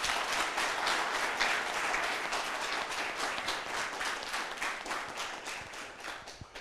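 Studio audience of young people at a youth event in Koumassi, Abidjan, applauding: a steady wash of many hands clapping throughout, fairly distant and even, tapering slightly at the end.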